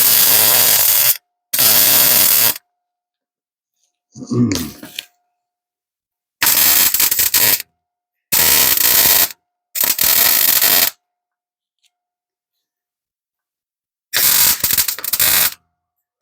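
Metal is being welded, heard as a series of loud, harsh, buzzing crackle bursts lasting one to two seconds each, separated by silent pauses, with one softer clattering sound in between.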